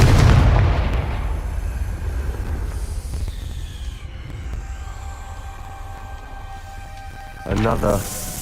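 A Confringo fire spell explodes in the video game Hogwarts Legacy with a loud booming blast at the start that fades into rumbling debris. A voice is heard, and a second burst comes near the end.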